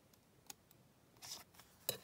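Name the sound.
scissors cutting a slit in junk mail paper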